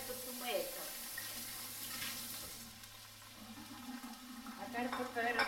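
A pan sizzles and crackles steadily while an Italian grandmother cooks pasta e fagioli, the frying noise fairly faint under a background wash with brief stirring clatter.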